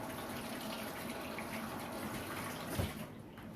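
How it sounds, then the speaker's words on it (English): Tap water runs steadily into a sink while hands are rinsed beneath it, a close, even rushing wash with a small splash near the end. "I'm going to wash my hands quick."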